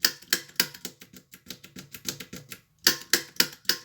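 The push buttons on a Hacker RP25 radio are pressed repeatedly in quick, uneven succession, making a run of sharp, close mechanical clicks with one brief pause partway through.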